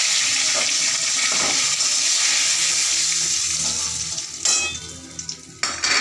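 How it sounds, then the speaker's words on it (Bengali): Cumin, cinnamon, cardamom and bay leaf temper in hot oil with a loud, dense, steady sizzle and crackle that thins toward the end, broken by a couple of sharp clatters. "জিরে ফোড়ন দিলাম, দারচিনি এলাচ একটু ফোড়ন দিলাম, তেজপাতা,"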